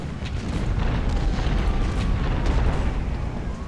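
Artillery fire in the Civil War strategy game Ultimate General: Civil War, a continuous rumble of heavy booms and blasts rolling over one another, loud and dense throughout.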